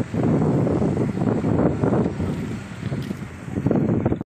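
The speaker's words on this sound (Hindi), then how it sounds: "बहुत ही काले काले बादल हैं, हवा चल रही है ठंडी।" Cold wind blowing under dark clouds before a city rainstorm, buffeting the microphone in loud, uneven rumbling gusts that ease off briefly near the middle.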